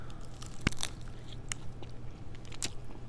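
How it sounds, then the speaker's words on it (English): Close, crisp bites into a cake with a crunchy strawberry topping coated in white chocolate, a sharp first crunch followed by a few smaller crunches and chewing sounds, with no talking. "That crunch is really good on top."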